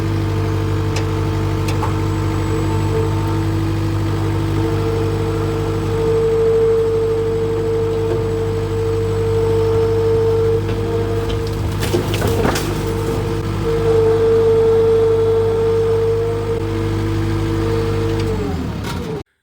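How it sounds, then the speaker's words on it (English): A skid steer's diesel engine runs loud and steady while pulling down a wooden barn whose roof was caved in by a tree. The drone holds for most of the stretch, a cluster of cracks and clatter comes midway, and the engine cuts off at the end. "start up the skid steer here and pull this down, or at least attempt it"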